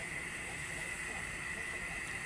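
Steady broadband hiss of a strong gas stove flame burning under a cooking pot, a constant even roar with no breaks, close and moderately quiet throughout.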